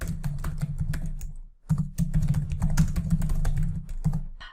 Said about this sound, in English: You could click somewhere else and start to type in some more text.